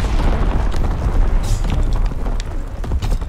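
Artillery shells land in the World War II shooter Call of Duty WW2. A loud, continuous low rumble of booming explosions rolls on without pause, with faint crackling debris scattered through it.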